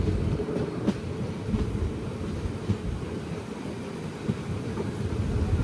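A steady, heavy rumble inside a coach of the Kollam–Chennai Egmore Express as it rolls into Kundara railway station, with occasional soft rail clanks and no voices.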